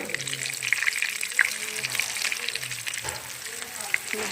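Chicken shami kabab tikkis frying in a pan as they are flipped over, a steady moderate sizzle with a few faint clinks, close, with soft voices in the background.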